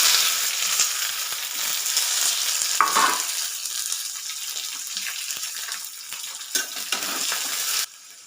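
Sliced onions frying in a pan with garlic and curry leaves for an onion curry, giving a loud continuous sizzle broken by stirring scrapes and clatter, then cutting off abruptly near the end; no one speaks.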